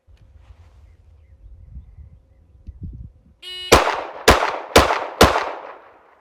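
Steyr pistol fired rapidly: four loud, sharp shots in quick succession, evenly spaced about half a second apart, close and ringing, after a few seconds of quiet handling noise.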